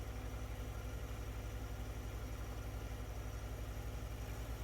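A John Deere 1 series compact tractor engine runs at a steady high speed around 2500 RPM, an even pulsing drone close by and fairly quiet, with no talk.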